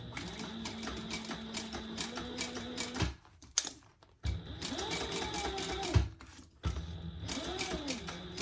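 A sewing machine stitches a leather Triskele wallet at a slightly lengthened stitch, running in steady rapid bursts with brief pauses between runs, close and clear with no talk.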